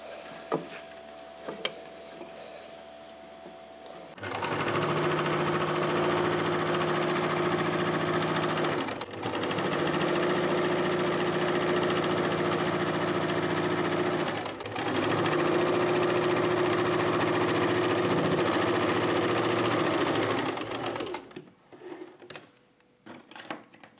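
Sewing machine stitching piping fabric for a hand piece, running in three long steady bursts with brief pauses between, loud and close, no talking.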